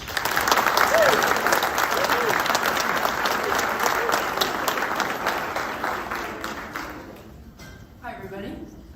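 Banquet audience applauding a welcomed speaker, a dense burst of clapping from a seated crowd that starts loud and gradually thins out, fading to scattered claps and light room noise by the end.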